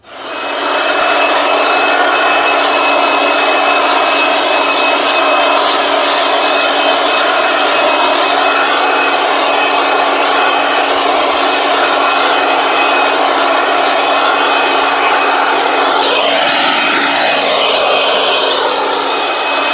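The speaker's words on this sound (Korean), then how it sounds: "이렇게 고추밭을 이렇게 한 번씩 이렇게 송풍기를 불어주시면은" A leaf blower roars steadily and loudly at close range in a pepper field, a constant droning whoosh with a slight pitch sweep near the end.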